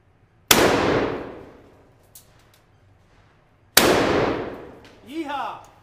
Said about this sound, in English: Shoot that scatter gun, Dill.